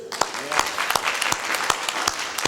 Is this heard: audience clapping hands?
yes